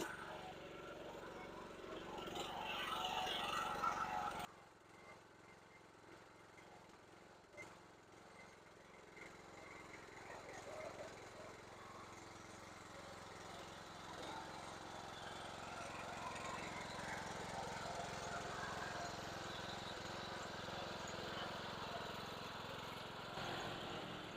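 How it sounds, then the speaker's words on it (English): A riding lawn mower engine drones steadily at a moderate distance, rough and continuous, with a louder burst at the start and voices faintly underneath. "ready with his lawnmower there to get it back in the shop"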